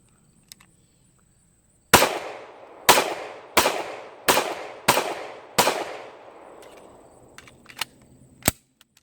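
Seven sharp gunshots from a Sig Sauer P226 9mm pistol ring out at a range, fired in an uneven sequence with short echoing tails, loud and close.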